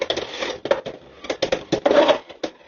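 Beyblade X tops, Chain Incendio against Soar Phoenix, are launched and clash in a stadium, giving bursts of sharp plastic clacks and scraping knocks in irregular, close, loud hits that stop suddenly.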